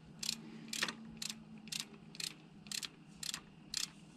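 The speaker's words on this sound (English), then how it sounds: "I'm going to put them all in, and then we'll torque them down" A torque wrench clicks and ratchets as it tightens intake manifold bolts on a Chevy 5.3 V8 engine, with eight crisp, evenly paced ratcheting bursts close up and no talking.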